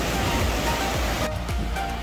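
Pacific Ocean waves washing onto a beach at Cabo San Lucas, Mexico, a continuous close hiss and rush of surf with a brief dip in the wash near the end.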